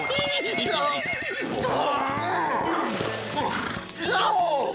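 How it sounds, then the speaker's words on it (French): A horse neighs and whinnies repeatedly, loud and close, with clip-clop of hooves, mixed with lively background music in a cartoon scene. "c'est le joli dada du gentil sergent"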